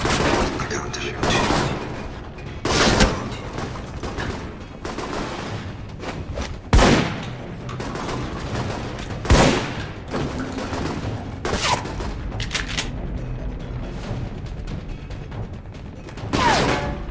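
Gunfire in the PC shooter Alpha Protocol: scattered sharp shots and short bursts across a long firefight, with loud individual cracks standing out over continuous game noise and occasional voices.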